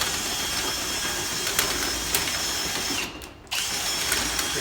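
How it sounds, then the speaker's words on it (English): A Milwaukee drill spins sweeping rods through a twinwall chimney liner toward a mole brush, a steady mechanical whir with faint rhythmic ticks, cutting out briefly before resuming. "direction lever on this Milwaukee drill"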